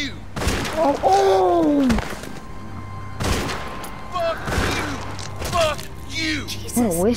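Gunfire in The Walking Dead video game, with sharp broadband bursts cutting through speech: one near the start, a cluster around the middle and another toward the end, while a character shouts and talks loudly.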